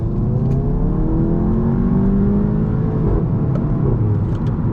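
A Volkswagen Golf GTI accelerating on a night drive, heard from inside the car as a loud, steady engine drone with rising tones through the gears.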